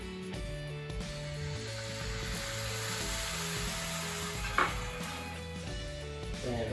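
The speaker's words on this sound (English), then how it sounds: "Now we're gonna add 1/4 cup of red wine." Red wine poured into a pan of brown sauce base for Espagnole sauce, giving a steady, moderately loud sizzle and fry with faint stirring, no speech.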